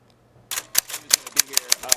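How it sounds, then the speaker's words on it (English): Typewriter keys strike in a steady, methodical rhythm, each crisp metallic clack loud and close, after a brief quiet start. "I heard it a block away because the typewriter is quite loud."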